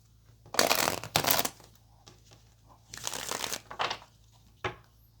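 Tarot cards being shuffled close up in several quick riffling bursts separated by short pauses, crisp and papery, with no talking.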